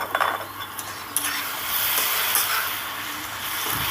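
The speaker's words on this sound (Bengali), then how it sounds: "এবার সুন্দর করে নেড়ে চেড়ে জলটাকে পুরো শুকিয়ে ফেলতে হবে" Water spinach (kolmi shak) is stir-fried in a pan with a dense, close sizzle and repeated scraping strokes of the stirring spoon against the pan, steady and fairly loud, with no voices.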